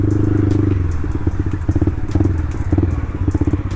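Motorcycle engine revved repeatedly, a loud close idle breaking into rapid throttle blips and sputtering bursts with clattery mechanical noise, the rhythm uneven as the rider works the throttle.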